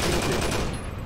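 Machine gun fire crackles in a World War II battlefield game, a dense burst of rapid shots lasting about a second, loud and close with no talk over it.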